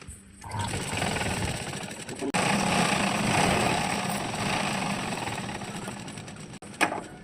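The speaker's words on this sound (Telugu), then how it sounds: "ఒకటి లైట్గా ఇలా ఫోల్డ్ చేసేసి ఒక స్టిచ్ చేసుకోండి, పెద్ద కుట్టు వేసుకోండి" A sewing machine runs continuously and loud while stitching a fold on a blouse, steady motor whir for several seconds before stopping with a brief clunk near the end.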